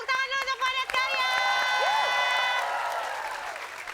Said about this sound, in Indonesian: tepuk tangan dulu untuk Padat Karya